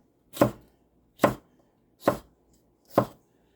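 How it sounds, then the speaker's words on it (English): A knife slices through peppers on a cutting board for a chicken stew, four evenly spaced, crisp thuds with clean silence between them, close and clear with no talk. "I'm just slicing up the peppers"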